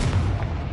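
A Confringo blasting spell erupts in Hogwarts Legacy, a loud, heavy boom with a low rumbling body that fills the whole short moment, close and alone with no talk.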